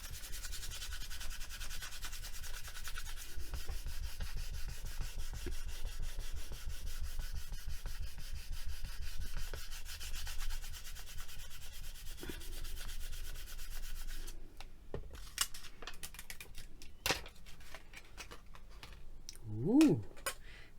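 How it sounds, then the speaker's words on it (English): Paper being burnished by steady close rubbing for about fourteen seconds, a dense scratchy swish, followed by scattered small taps and handling noises. "I'll just give it some more burnishing just to make sure that those bits are totally blended together."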